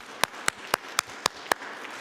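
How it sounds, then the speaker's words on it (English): Six sharp, evenly spaced claps ring out singly about a quarter second apart after an AI talk, sparse and close rather than a crowd. "A little applause"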